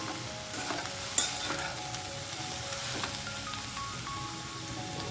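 Onion frying in oil in a pan while being stirred, a faint continuous sizzle with occasional scraping stirs and one sharp clink near the start, no talking.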